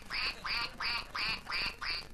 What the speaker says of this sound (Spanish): Un pato francés.